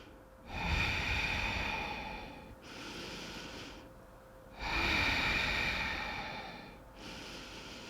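Deep, slow breaths during an intense yoga backbend flow, with two long airy inhales and exhales in a steady cycle, close and clear, alone.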